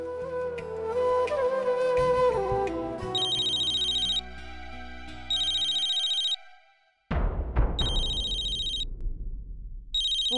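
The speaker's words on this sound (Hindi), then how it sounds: "पूर्वी तेरा फोन।" A phone ringtone sounds as repeated bursts of high electronic beeping over dramatic background music, broken by a sudden whooshing crash before the ringing resumes.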